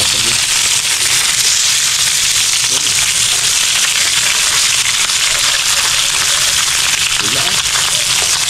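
Fish frying in hot oil in a pan, a steady dense sizzle with crackling pops throughout, close and loud, with brief faint voice traces.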